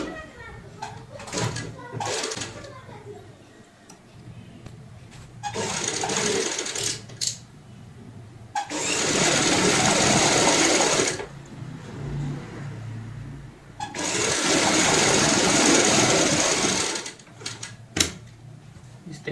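A sewing machine stitches along the marked lines of a cushion cover in two long, loud, steady runs, each several seconds long. Shorter bursts and handling noises come before them, and someone speaks briefly at the start.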